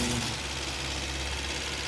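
A rebuilt Toyota Corolla 1.3 engine idles at a steady, low, constant hum, close and unvarying for the whole stretch, with no talking over it.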